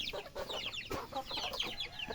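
Hens in a backyard flock cluck after laying eggs, a run of short, fairly faint repeated calls with bird chatter in the background.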